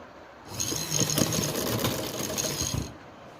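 Sewing machine stitching the lining of an Eid dress, a steady close whirring run lasting about two and a half seconds between quiet pauses.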